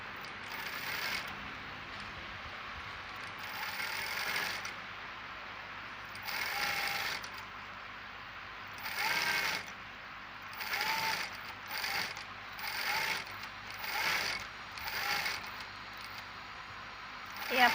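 A sewing machine stitches a folded one-inch hem in a series of short whirring runs of a few seconds each, separated by brief quiet pauses, close and moderately loud with no voices.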